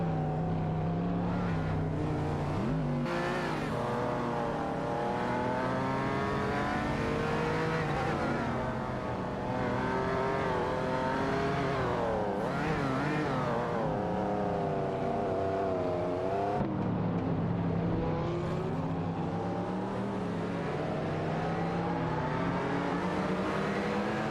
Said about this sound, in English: Nirasol and Krinoya in the De Tomaso Pantera DD5 are in a tight tussle with Duffdad and